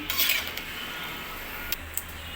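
Winter vegetables with green chillies are stir-fried in a pan, a soft continuous sizzle with a few metal spatula scrapes and clinks against the pan, close and moderate, without voices.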